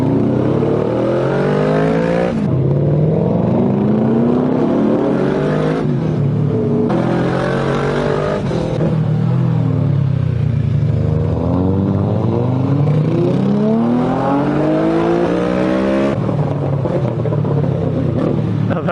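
A 5-litre car engine revs hard and continuously nearby, its pitch climbing and dropping through repeated throttle bursts on a mountain road, with sharp crackles and pops from the exhaust between pulls.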